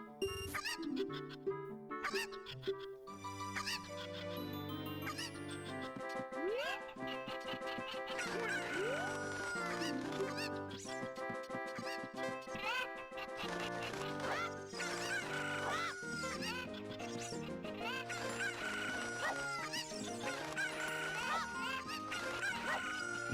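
Chickens cluck and squawk in The Legend of Zelda: Ocarina of Time on GameCube, the bird calls mixing steadily with busy, continuous game music that plays throughout.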